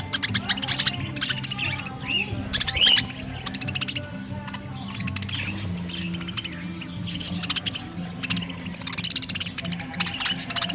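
Budgies and cockatiels at a parakeet sanctuary chirp and tweet continuously, a busy layered chorus of bright calls close by with a few sharper squawks standing out.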